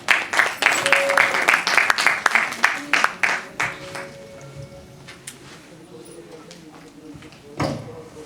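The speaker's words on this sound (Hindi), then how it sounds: "पेश करने के लिए तालियों के साथ स्वागत करेंगे मेघा जी का।" An audience at an evergreen-hits concert by a musical group applauds to welcome singer Megha, brisk close clapping for a few seconds that thins out into scattered claps and room noise.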